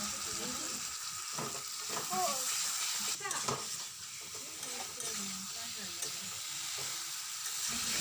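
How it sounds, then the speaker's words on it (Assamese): Steady sizzling of liver and tripe frying in a pan with spices, with occasional stirring scrapes and faint talk underneath. "এতিয়া পট আৰু লিভাৰবোৰ ভালদৰে ভাজি ল'ম।"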